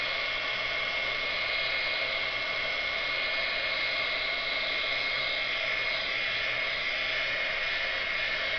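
A heat tool melts white Ranger embossing powder on a card, giving a constant airy blowing hiss at moderate level with no breaks.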